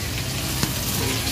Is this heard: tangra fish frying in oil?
yes